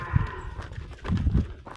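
Cows being let out to pasture on a farm, with dull hoof thuds and shuffling footsteps in two loose clusters, close by and moderately loud, no voices.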